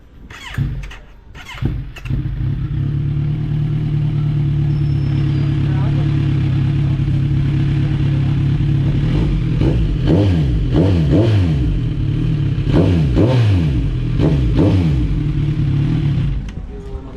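A Kawasaki Z1000R motorcycle engine, slightly cooled down, turns over with a few clattering bursts, then settles into a steady loud idle, its pitch rising and falling in several revs.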